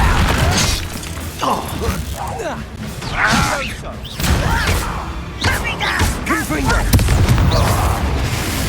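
Repeated Confringo explosive spells cast in Hogwarts Legacy, with booming blasts and crashing impacts layered over game music and combat noise, while a voice talks throughout.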